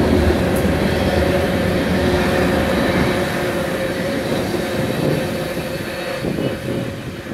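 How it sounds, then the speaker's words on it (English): A short Union Pacific freight train hauled by EMD diesel locomotives rolls past near Suisun-Fairfield, giving a steady, loud rumble with constant rail and wheel noise throughout, easing off slightly toward the end; no voices. "Here comes a short Union Pacific train."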